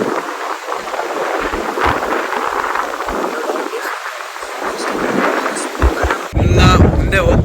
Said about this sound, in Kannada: ಗಾಳಿ ನೋಡಿದ್ರು ಏನೋ ಹೊಡಿತೈತೆ ಗಾಳಿ.